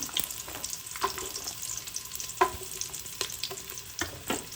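Onion and garlic lightly fried in a pan for a Mangalorean clam dish: a quiet sizzle broken by repeated spoon scrapes and clinks against the pan, close by and fairly soft.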